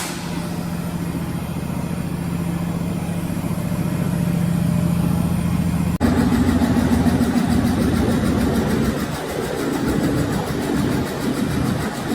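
Large low-RPM Nordberg radial stationary engine running steadily with a deep, even throb and mechanical clatter that grows noisier partway through, close and continuous with no voices.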